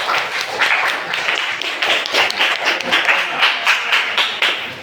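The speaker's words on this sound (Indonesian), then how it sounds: "Boleh tepuk tangannya?" Applause from participants at a coding and artificial intelligence teacher training session: steady, fairly close clapping from a modest group, lasting about five seconds.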